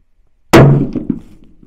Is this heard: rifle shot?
yes